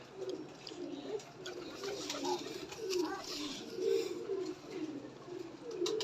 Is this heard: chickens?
no